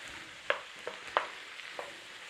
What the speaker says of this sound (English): we're just sauteing these off a little bit